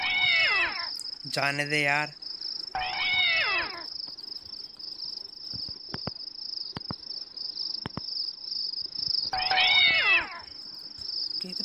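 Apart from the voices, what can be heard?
cat meowing in The Visitor video game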